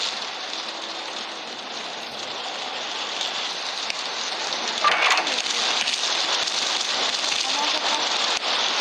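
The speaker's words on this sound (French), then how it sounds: "Non, c'est la pluie." Rain in the Roblox video game, a steady, dense hiss of falling drops that continues throughout and grows slightly louder toward the end.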